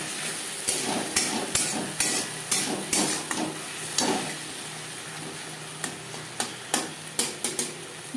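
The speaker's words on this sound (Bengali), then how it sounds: "পেঁয়াজের সাথে মশলা বেশ ভালো করে মিক্স করে দেবো।" Onion with ginger and chilli paste is stirred in a frying pan, with a soft sizzle under repeated scraping and clacking strokes of the spatula that come in uneven bursts, near and alone.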